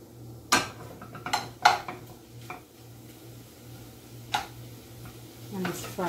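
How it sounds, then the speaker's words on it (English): Onion, garlic and sweet pepper cook in a pan with only a little oil, giving a faint low sizzle, while sharp clinks of utensils against the pan sound at intervals, close by and fairly quiet. "it's frying up"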